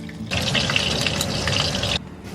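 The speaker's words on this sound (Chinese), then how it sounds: "锅洗干净" Water gushes into a wok for washing in a steady, loud rush lasting under two seconds, with quieter kitchen noise before and after.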